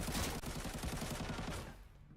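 Rapid automatic gunfire from a firefight in the shooter game Arena Breakout, a dense burst of repeated shots lasting nearly two seconds before cutting off, loud and close with no talk over it.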